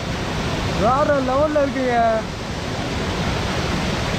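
Aruvikkarai waterfall in Kanyakumari pours as a steady, broad hiss of falling water that fills the whole clip, with someone speaking briefly over it near the start.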